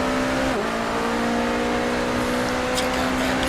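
Porsche 963 prototype race car in a racing video game at the Daytona 24 Hours, its engine holding a steady high-speed drone near 200 mph with a brief dip in pitch, loud and continuous.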